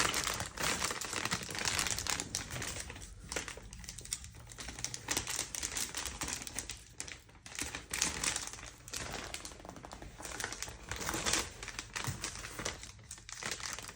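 A plastic bag is crinkled and turned over while making pizza with mozzarella, giving steady close crackling and rustling with sharp crinkles throughout and no talk.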